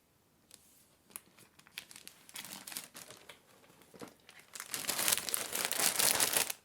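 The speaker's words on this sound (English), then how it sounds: "before I unwrap this" Plastic shrink wrap being torn and crinkled off a vinyl LP of The Beatles' A Hard Day's Night, with sparse crackles at first, then steady crumpling and a loud, dense ripping burst near the end, close up and alone.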